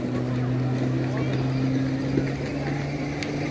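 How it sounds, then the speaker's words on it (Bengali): A speedboat motors on a lake at a busy tourist spot, giving a steady droning hum with a strong low tone that holds for a few seconds under faint background voices. "এই সব লাইন দিয়ে স্পিড বোটে উঠছে।"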